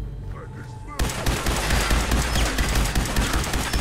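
Rapid gunfire erupts suddenly from a magazine dump in the video game Fallout 4, a loud, continuous burst of overlapping shots that follows a quieter moment and holds steady to the end.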